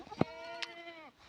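A single goat lets out one clear, wavering bleat lasting about a second, close and fairly loud, in a cold Nepali hill village, with no talking.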